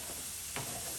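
Tikka masala paste sizzles in a pan with a soft, steady hiss, and one brief scrape of a spoon stirring it partway through.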